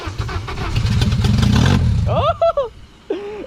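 K-swapped Toyota MR2 engine firing up for the first time, heard as a loud, close, rough engine roar under excited shouting voices, then cutting out to leave the voices alone.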